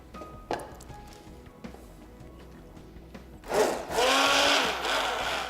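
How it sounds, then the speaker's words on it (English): A kitchen blender whirs loudly as it purées Sai Bhaji, starting abruptly partway through after a stretch of faint kitchen clatter and taps, then running steadily to the end. "let me just blend it quickly"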